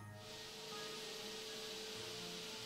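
A vacuum roars steadily and loudly in the South Park: The Stick of Truth video game, a broad continuous hiss that swells in and holds for the whole moment with no talk.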